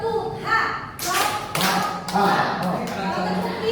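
Children doing the H clap, a patterned classroom clapping game, with several sharp group claps and taps landing between an adult's spoken instructions, loud and close.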